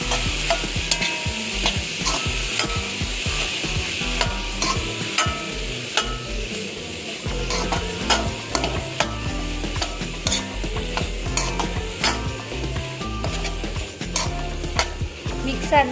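A spoon stirs cooked lentils and vegetables in a frying pan, giving a continuous scraping, clinking rhythm over a soft sizzle, close and steady throughout.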